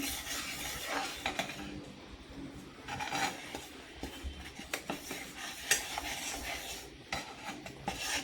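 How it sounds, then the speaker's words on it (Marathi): A spoon stirs a makhana and cashew powder mixture in a pan for makhana barfi, making steady scraping and clinking against the metal with soft rhythmic taps, close and fairly quiet, with no talk. "हे बघा आपल्याला असं सतत ढवळत राहायचं."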